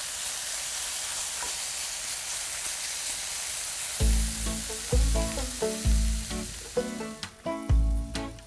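Japchae starch noodles sizzle in a hot pan, then a series of rhythmic scraping strokes as they're tossed and stirred, each one loud and close.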